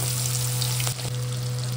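Nigella seeds (black cumin) sizzling in hot oil for a Bengali fish curry, a steady dense hiss close by, with a low constant hum underneath and a couple of faint clicks.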